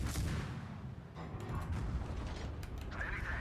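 Ship guns fire in a World of Warships naval battle, a dense heavy rumble with scattered sharp reports and mechanical creaks running loud throughout, no voices.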